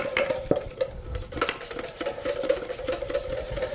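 A whisk beats a small amount of egg yolk mixture for tiramisu in a bowl, a quick rhythmic clicking and scraping that repeats steadily and close, with no talking.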